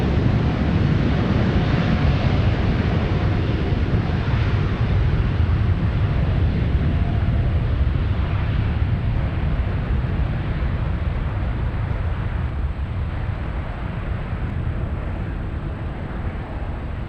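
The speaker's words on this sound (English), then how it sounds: "Such a cool plane." A jet airliner takes off at San Francisco airport, a loud sustained roar with broad rumbling noise that slowly fades slightly over seventeen seconds, with no talk.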